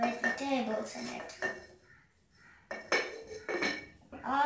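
Vegetables dropped into a heavy cooking pot on a gas stove, giving a few close clattering knocks and clinks of pot and utensil, with quieter stretches between bursts.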